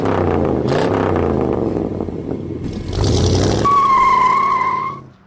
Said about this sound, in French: je m'apprête à faire un petit tour de route, un petit essai routier